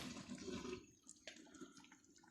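Water drained out of a pot of Maori boil-up with cabbage, a gushing pour that fades into trickling and splashes, heard quietly and close.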